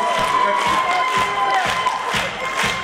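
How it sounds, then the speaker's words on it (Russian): Concert audience applauding and cheering in a hall, a dense continuous crowd roar with rhythmic clapping pulses running through it. "Пока хлопаете, танцую."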